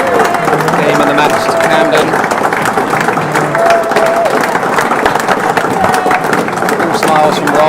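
Applause at the end of a real tennis Australian Open semi-final, a steady, close round of clapping from a small crowd lasting several seconds, with a commentator talking over it.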